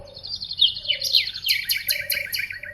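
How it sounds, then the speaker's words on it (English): Parrot calls ring out loud and close as a series of shrill chirps and whistling squawks, some gliding downward, repeated in quick succession with no talk. "P for parrot."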